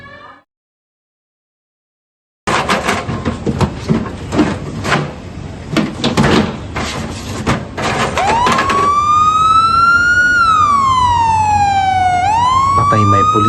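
A police car siren blares close and loud, starting with harsh bursts of engine and horn-like noise, then rising and falling in a sweeping wail.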